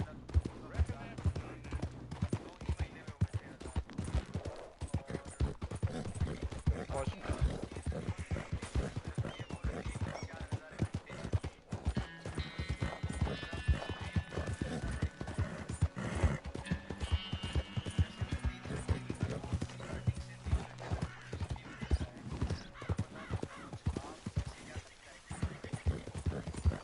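Steady clip-clopping of horse hooves in Red Dead Redemption 2 runs throughout, mixed with talking voices and game sound effects.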